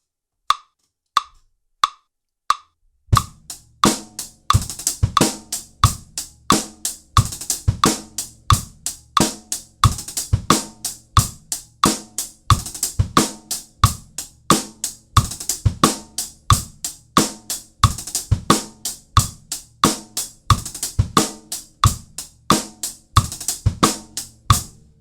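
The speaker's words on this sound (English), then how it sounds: "let me throw it on the metronome at 90 beats per minute" A few clicks from a metronome set to 90 bpm lead into a drum groove built on five-stroke rolls. The playing is steady and even, with crisp, regular hits over a low, repeating pulse.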